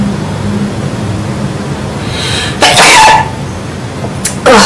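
A person's sneeze, blamed on cats, bursts out loudly near the end in a couple of sharp explosive blasts over a low steady background hum.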